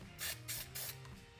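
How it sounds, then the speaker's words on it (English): Self-etching primer sprays from an aerosol can onto bare metal during a running board install on a 2018 Jeep Wrangler JK 4 Door, three short hissing bursts close by, separated by brief pauses. "Now I'm gonna spray the bare metal with some self-etching primer"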